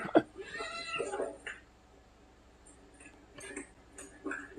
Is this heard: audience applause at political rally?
no